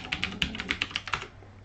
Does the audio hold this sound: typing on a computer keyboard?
yes